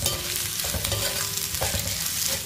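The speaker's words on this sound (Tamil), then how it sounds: "இதை லைட்டாக ஒரு வதக்க வதக்கிடுவோம்." Pirandai mixture with asafoetida and pink salt is sautéed in a pan, giving a dense, continuous sizzle with occasional spatula scrapes, close and steady throughout.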